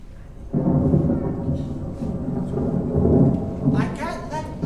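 Steady rain with a low rolling rumble of thunder, loud and continuous, swelling midway and fading slightly toward the end.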